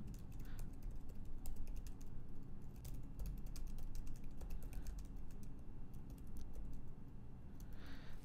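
Keys clatter on a computer keyboard as a line of code is typed, a steady close patter of keystrokes over a constant low background hum, with no talking.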